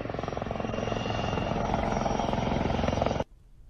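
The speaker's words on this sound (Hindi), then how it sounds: "हिंदुस्तान एरोनॉटिक्स लिमिटेड द्वारा निर्मित ध्रुव हेलीकॉप्टर का प्रयोग करके बाकी के स्पेशल फोर्सेस दुश्मन के एरिया में आ रहे हैं" A HAL Dhruv helicopter from Hindustan Aeronautics Limited, flying while carrying special forces, gives a loud, steady rotor drone with dense engine whine that cuts off abruptly near the end.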